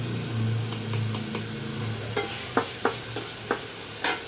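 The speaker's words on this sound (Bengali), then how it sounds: "পেঁয়াজটা সুন্দর ভাজা হয়ে গেছে" Onions frying in a pan for a Bengali dish of mango and taro stolons, with a steady soft sizzle and a few sharp clicks of stirring toward the end; no voices.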